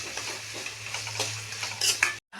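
Tomatoes simmering and sizzling in a pan, stirred with scraping utensil strokes over a steady low hum, with a brighter clatter near the end before it cuts to silence.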